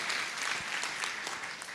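A church congregation claps during a sermon, a dense burst of applause from many hands that stays steady and fairly close throughout.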